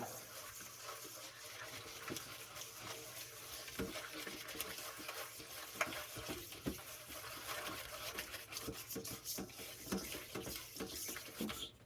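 A whisk stirring salad dressing with jalapenos in a bowl, a steady close scraping and sloshing with small clicks against the bowl, running continuously without talk.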